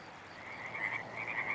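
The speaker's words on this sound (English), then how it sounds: "red-legged frogs have been successfully breeding in their own pond at Kirby Canyon" Red-legged frog croaking from a breeding pond at Kirby Canyon, a faint, repeated raspy call that pulses in short bursts, heard alone with no voices.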